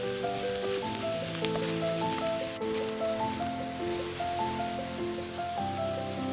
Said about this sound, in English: Now add the sliced mushrooms and give them a good mix. Sauté until they release their moisture and start to turn golden.